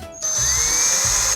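A power drill fitted with a hole saw spins up for about a second, a steady high whirring whine with a faint rising tone, close and loud, then cuts off.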